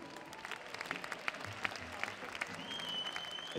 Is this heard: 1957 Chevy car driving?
no